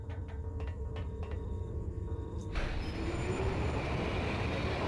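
A train in the video game The 3rd Birthday rumbles steadily, with faint rhythmic clatters of the wheels on track that soon give way to a dense, even roar of motion.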